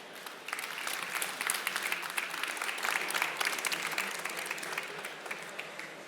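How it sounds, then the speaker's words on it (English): An audience at a life science startup pitch competition gives a finalist a round of applause, the clapping soft and distant, swelling slightly in the middle and then easing off. "Please give her a huge round of applause."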